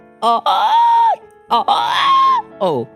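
A human voice imitates a screaming turkey, two long strained wailing cries with a short yelp at the end, loud and close.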